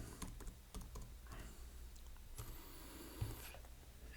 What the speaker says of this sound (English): So let's type in GDP by country,